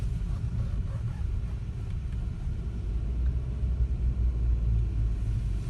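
Car rolling along in second gear during a driving lesson, a steady low engine and road rumble from inside the cabin, even and unbroken with no voices.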